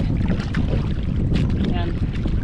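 Strong wind buffets a small fishing boat out on open water, a steady loud rush with microphone rumble and gusts that build, while voices talk faintly in the background.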